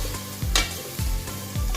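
Garlic, ginger and mixed vegetables roast in hot oil in a pan, sizzling close up while a spoon stirs them in three quick scraping strokes.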